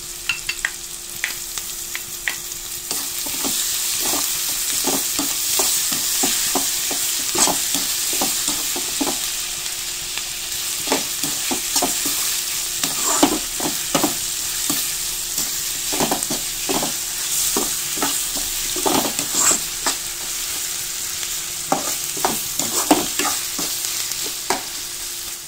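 Beef sizzles with salt and tomato in a pan, a steady bright frying hiss broken by repeated scraping strokes of a spoon stirring through the meat, close and fairly loud with no talking.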